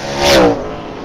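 An outlaw super late model race car roars past at Springport Motor Speedway, and its loud engine rises and falls in a single close Doppler sweep before the drone of the field carries on.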